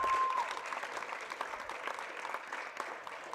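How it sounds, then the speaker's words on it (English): At a high school volleyball match, the crowd applauds the seniors with steady, moderately loud clapping that rolls on throughout, slightly distant in the gym. "And a round of applause for all the seniors"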